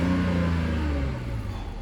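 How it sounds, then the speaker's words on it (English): A BMW E38 engine running after being revived from two years of sitting, now out of limp mode with MAF and idle faults cleared: a loud, steady, smooth low rumble with a slight rev that settles back down. "it seems like the engine's purring away smoothly"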